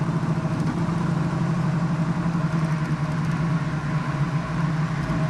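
A steady, deep engine rumble from a 1971 Chevrolet Chevelle SS drones without a break, a throaty exhaust note holding at an even idle throughout, close and fairly loud.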